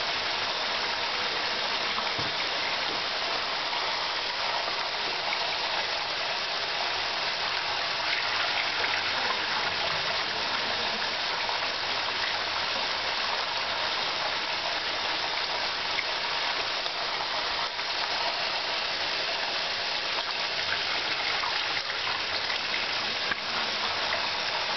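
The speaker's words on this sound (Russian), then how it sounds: "Вода выбивает легкую фракцию из виниловой паутинки." Water gushes steadily through a prospector's sluice lined with a vinyl moss mat, a continuous broadband rushing that stays loud and even from start to finish, with no voices.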